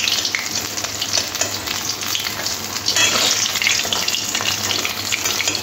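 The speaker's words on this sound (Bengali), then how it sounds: "মাছগুলো খুব ভালো করে লাল লাল করে ভেজে নিয়েছি" Pieces of chital fish sizzle steadily in hot oil in a pan, a dense, close crackling hiss that holds throughout with no voices.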